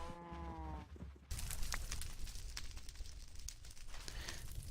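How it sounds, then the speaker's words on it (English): A single low cow moo in the video game Agrarian Skies sounds at the start, then gives way to steady rustling and shuffling background noise. "plenty of mushrooms, pigs, sheep, and cows."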